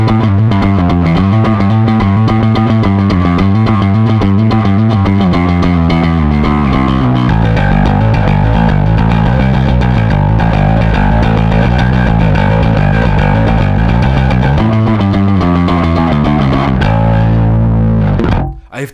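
A bass guitar with single-coil pickups, played through a KHDK Abyss distortion pedal on its high setting, plays a gritty riff, thick and loud, continuous with no voices, cutting off abruptly at the end.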